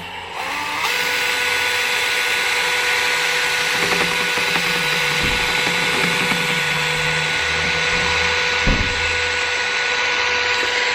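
A power mixer whirs continuously while stirring material in a container, a loud, steady mechanical drone with faint tonal hum and occasional knocks, close and unbroken throughout.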